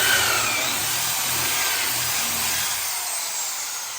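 A power drill boring screw holes into a wooden bed frame, a loud, close, continuous grinding whine with a low rumble underneath that lasts the whole time and eases off slightly toward the end, with no speech.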